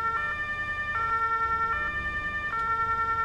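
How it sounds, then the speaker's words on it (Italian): A forestry emergency vehicle's siren in Farming Simulator 22 alternates between two pitches in a regular cycle of just under a second, playing steadily and alone with no talk. "Anche lui ha le sirene, vero?"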